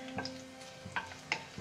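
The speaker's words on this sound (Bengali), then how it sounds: "তেল দিয়ে দিয়েছি, এবার সবজিগুলোকে ভেজে নেব" Vegetables frying in oil in a restaurant kitchen produce a low, quiet sizzle under a steady hum, broken by three or four short clinks and scrapes spaced through the moment.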